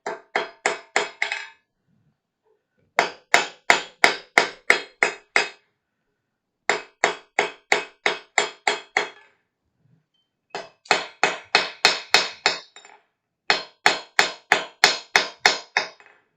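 A blacksmith hammers down the points of a forged roasting fork on an anvil, striking in quick rhythmic bursts of about six to ten ringing blows separated by short pauses, close and clear, with no talking.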